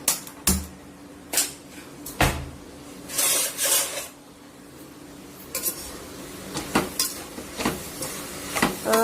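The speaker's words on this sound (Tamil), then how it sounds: "இப்போ அடுப்பை பொருத்தி சும்மா ஒரு 2 வதக்கு வதக்கி விட்டுறலாம்" Vegetables for a simple poriyal stir-fried in a pan, a spoon scraping and clattering against the metal in irregular bursts over a faint low sizzle, with no talking.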